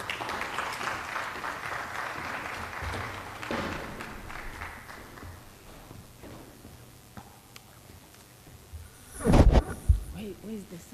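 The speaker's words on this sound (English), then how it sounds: "Can we give her a round of applause?" Clapping for the Honorable Speaker at a youth parliament swells briefly, then fades over the first few seconds into a quieter room with scattered voices, knocks and a loud handling thump near the end.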